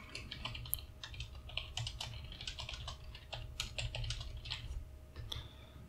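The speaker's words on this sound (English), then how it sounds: "you can just type anything you would like to blog about." Brisk, irregular clatter of keys on a computer keyboard as a test blog post is typed, close and clear with short pauses between bursts and no speech.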